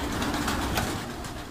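Pigeons coo softly in a loft as weaned young birds feed, a short low murmuring over a noisy background.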